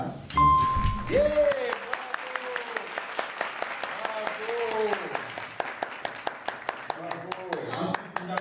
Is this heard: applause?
yes